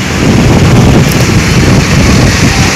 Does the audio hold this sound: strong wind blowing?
yes